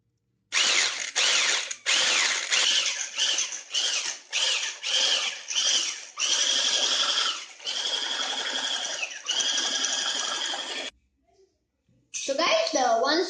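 An electric mixer whirs in short bursts and then longer runs while beating cinnamon roll batter with salt and baking powder, loud and close, with its pitch shifting as it works, then briefly stopping before starting again.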